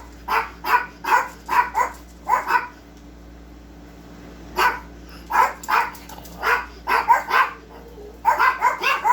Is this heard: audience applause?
no